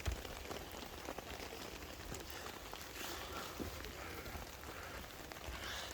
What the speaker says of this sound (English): but look, the rain's dripping off that, so it's actually doing its job quite well.